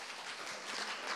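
A lecture audience claps to welcome the next speaker, a brief, steady patter of many hands that swells slightly toward the end.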